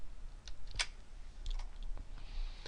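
Computer keyboard keys pressed for a shortcut, a few quiet separate clicks spread over about three seconds, close, with no talking.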